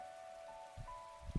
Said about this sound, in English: This rain stuff is nothing but trouble